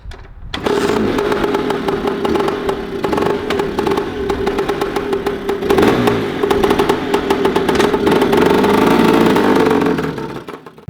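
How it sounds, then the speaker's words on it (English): A Lambretta scooter's two-stroke engine runs close and loud for about ten seconds on a test drive, with a buzzing, clattery drone that rises slightly as it revs before cutting off. "We'll just warm the engine up."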